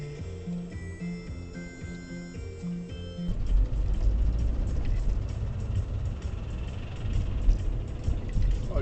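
A car engine and road noise from a French dashcam drive: a steady, loud low rumble with broadband roar that cuts in abruptly after a few seconds of music and runs to the end.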